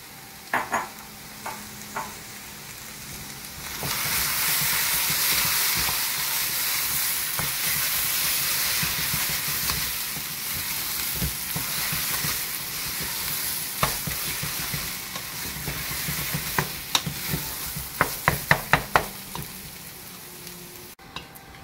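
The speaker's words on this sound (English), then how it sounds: "just cook it slowly to help darken that tomato paste" Tomato paste fries slowly over lowered heat in a pan for Austrian-style Hungarian beef goulash, a steady loud sizzle with spoon scrapes and sharper clicks of stirring near the end, close up and with no talk.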